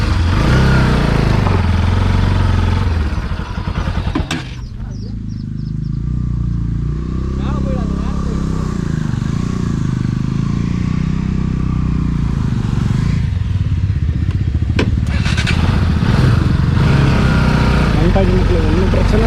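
Bajaj Pulsar NS200 motorcycle with stalling trouble, its engine running loud and steady close by, a brief dip partway through, with people talking over it throughout.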